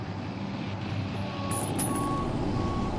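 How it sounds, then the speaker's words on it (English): Cargo truck pulling away in the logistics game LOGistICAL, a steady low engine rumble with reversing-style beeps and a brief airy hiss, close and alone without talk. "Give that truck power and away it goes"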